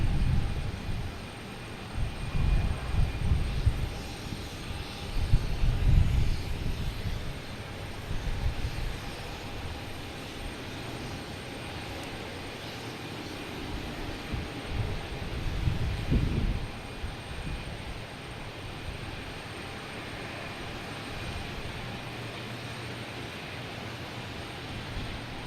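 An Airbus A380 jet at Boston Logan Airport gives a broad, rumbling engine roar that swells and fades in waves under steady hiss, carrying from a distance on a clear afternoon.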